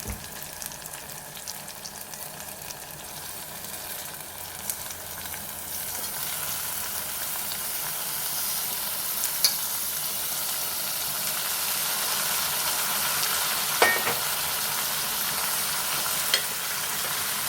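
Tomatoes going into a brinjal curry sizzle steadily in the pan, a continuous frying hiss that builds slightly over time, with occasional spoon scrapes as it is stirred; no voices.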